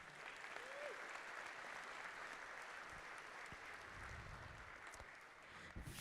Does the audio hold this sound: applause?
yes